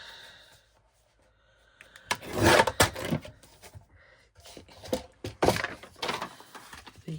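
A craft stack gets its uneven side trimmed, heard as two close bursts of sliding, scraping cuts separated by a quiet pause.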